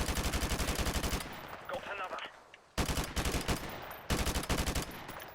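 Rapid automatic gunfire in Call of Duty Modern Warfare Remastered, loud bursts of close shots broken by a short lull with faint background sounds, then two more sustained bursts.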